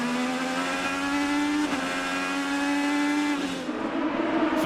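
Onboard engine of an IndyCar race car at the Long Beach Grand Prix street race, a loud steady high-pitched whine held at near-constant revs, with brief shifts in pitch and a small dip toward the end.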